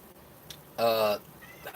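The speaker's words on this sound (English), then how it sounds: "That cat is so loud." An old cat lets out a single loud, drawn-out meow, close by and brief, with faint room noise around it.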